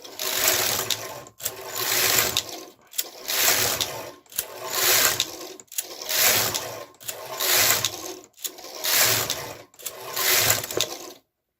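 A KR 230 knitting machine carriage sweeps back and forth across rows, giving eight regular whooshing passes, each about a second and a half long and split by short pauses, close and loud with no talk.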